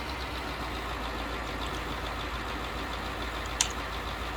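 A tractor engine in the Farming Simulator video game runs at a steady, quiet idle-like drone, faint and continuous, with a brief click near the end and no talking.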